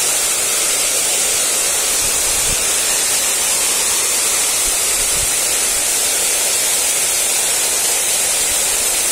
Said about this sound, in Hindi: पानी गर्म पानी आता है ऊपर से झरने की तरह गिरता है